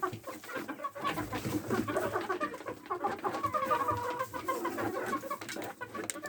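Free-range free-roaming backyard chickens clucking continuously at close range, with busy overlapping clucks and murmurs from several birds throughout.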